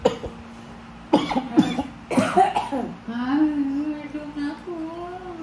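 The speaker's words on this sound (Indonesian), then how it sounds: "Serumahnya batuk gara-gara rawit buat." Several people in a home coughing after eating noodles made with spicy bird's eye chili, with sharp bursts at first and then throat clearing and rough voiced sounds that trail off, fairly close.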